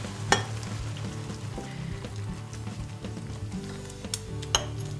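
Broth is added to a hot pan of food being cooked, giving a continuous close sizzle and frying hiss with a few sharp clinks of a utensil against the pan.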